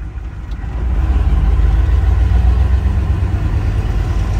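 Pickup fitted with Super Duty axles driving on the road, a steady low engine drone and road rumble that swells slightly after the first second and then holds even, with no talking.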